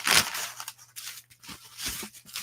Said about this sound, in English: You probably can't hear me over the rustling paper.